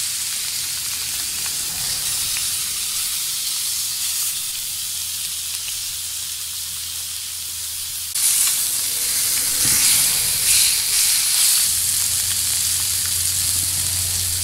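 Mirror carp fillets sizzling in butter in a hot pan, a steady loud frying hiss that swells brighter partway through as more fish goes in, continuous and close.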